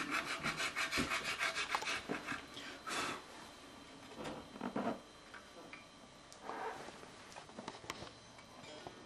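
A small file works the D-string slot of a guitar nut in quick, light rasping strokes, clustered and intermittent, close but faint, with no talking.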